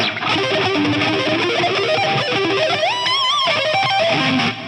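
Distorted electric guitar lead with heavy delay and reverb, notes bending and sustaining into a washy trailing echo, loud and continuous.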